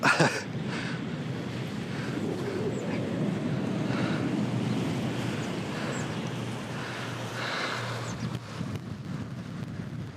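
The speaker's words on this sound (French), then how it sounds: "Ah, il y a du vent." Steady wind near Montreuillon buffets the microphone with a low, rushing roar, continuous throughout with a few gustier moments.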